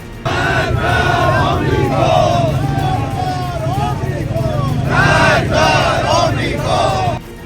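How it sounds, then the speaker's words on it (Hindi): Protesters chant slogans outside the British embassy in Tehran, a large crowd shouting loud rhythmic phrases together in waves that surge again near the end, with the rumble of traffic underneath. "प्रदर्शन कर रही भीड़ ने जो नारे लगाए उसे सुनिए"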